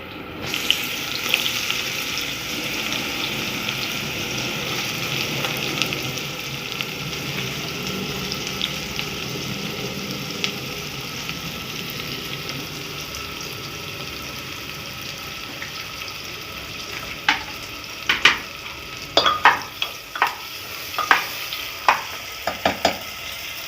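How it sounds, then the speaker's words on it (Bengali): Chopped onions fry in a pan for an egg biryani, giving a continuous soft sizzle with running water in the background; toward the end, a series of sharp scraping clatters come from stirring. "পেঁয়াজটা একটু ভাজা ভাজা হোক।"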